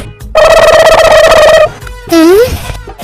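A phone ringtone plays loudly and close: one long electronic tone burst, a short pause, then a second warbling, rising-and-falling melodic burst.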